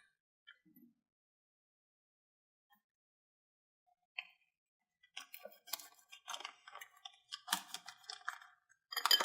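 Scissors snip open a plastic gnocchi package, bringing a cluster of faint, crisp crinkles and cutting clicks after several seconds of near silence.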